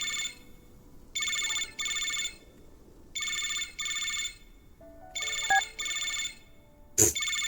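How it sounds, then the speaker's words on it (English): A telephone rings in repeated double bursts, electronic and fairly clear, with a short click and a sharp blip near the end; no talking. "Suddenly the phone rings."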